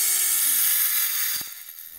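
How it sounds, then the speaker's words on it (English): A wood lathe spins as a bit bores a starter hole into a turned wooden chalice, giving a steady high-pitched whine with a brief low thump near the end. "I can go ahead and get at least a starter hole that I can get some of my tools into and begin my cutting of the interior"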